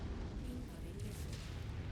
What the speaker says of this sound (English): Incoming missile.